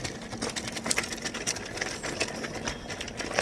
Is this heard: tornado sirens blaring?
no